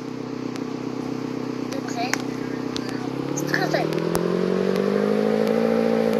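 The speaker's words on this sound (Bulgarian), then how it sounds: "Боби, айде сега, качвай се на този мотор да отиваме." A motorcycle engine in the Roblox Brookhaven video game hums steadily throughout, its pitch rising midway as it speeds up, with faint clicks and game effects over it.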